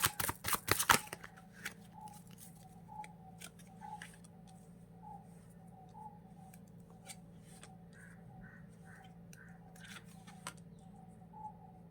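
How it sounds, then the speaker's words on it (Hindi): Tarot cards are shuffled in a quick, loud burst of riffling at the start. Faint repeated bird calls and a low hum follow in a quiet room. "जब तक मैं कार्ड्स को शफल कर रही हूँ"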